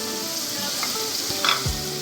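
Tomatoes and green chillies sizzle in a hot pan for beef yakhni pulao, a steady close frying hiss with a brief spitting burst and a light stir near the end.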